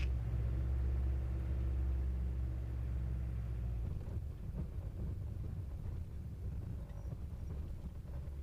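Jodel D18 light aircraft engine, registration G-WIBB, in flight: a steady droning hum that shifts into a rougher, louder rumble as the throttle opens, with wind noise throughout.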